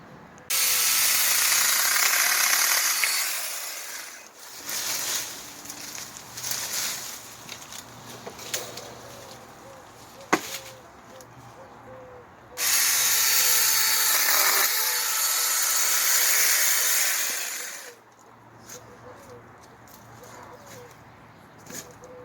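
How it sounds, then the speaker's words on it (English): A high-pitched SAKER mini cordless electric chainsaw whines in two long bursts cutting a tree branch about 3 inches thick, separated by quieter stretches of handling noise and faint background sound. "we're going to try out this little chainsaw and see how it works"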